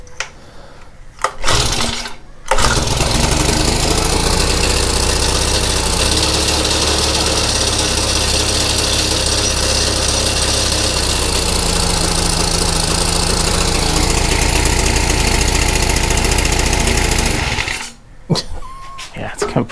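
Honda FG100 tiller engine with a dirty carburetor, running steadily and loud up close for about fifteen seconds before cutting out, with a rough, uneven idle.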